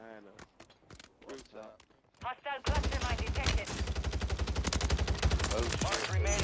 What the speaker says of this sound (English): Oh, they mortared me?